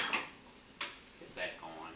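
Metal utensil clinks and scrapes against a cooking pot as flour is stirred into beef for beef burgundy, a few short knocks spaced apart, fairly quiet.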